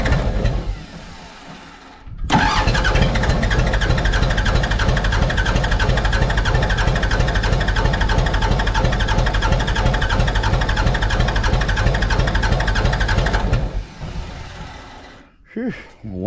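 Mitsubishi BD2F diesel dozer engine cranking after sitting for years, catching and running in a loud, rough, steady clatter for about eleven seconds before cutting out abruptly, close up.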